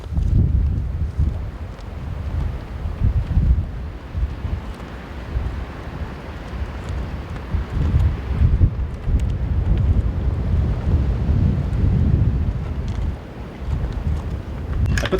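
Strong gusting wind buffets the microphone outdoors with a constant low rumbling roar, loud and steady throughout, at a session with a 32cc gas-powered Vekta 5 1500 RC race truck.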